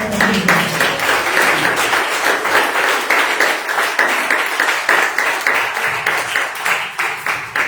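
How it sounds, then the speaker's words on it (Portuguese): A church congregation claps together in a lively, roughly rhythmic pattern, steady and fairly loud for the whole stretch with faint voices underneath. "Bate as palmas, bem alegre"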